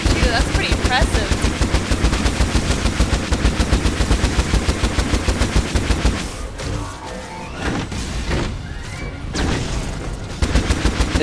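Rapid automatic blaster fire rattles loud and steady through a Star Wars: The Old Republic game battle, then breaks into scattered shots and impacts with people talking over the action.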